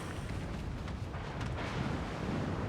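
Naval shell fire in a battleship video game with ships like the Nelson and Georgia: a dense, steady rumble of distant booming gunfire and explosions at moderate level, no talk.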